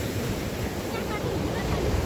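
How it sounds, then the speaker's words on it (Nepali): Big ocean waves crash onto a rocky coastline in a continuous, loud, near roar of surf, mixed with gusty wind buffeting the microphone. "अब कस्तो ठुलो छाल हानिरहेछ"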